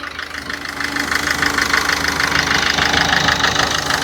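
A used car's sealed engine idles steadily at a dealer lot, a continuous loud rumble with a faint rhythmic knock that holds evenly throughout, with no talking.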